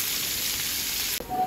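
Onion frying in oil left from frying hilsa fish gives a close, loud, continuous hiss, which cuts off abruptly into a quieter bubbling sizzle.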